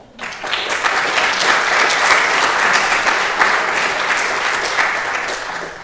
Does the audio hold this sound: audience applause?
yes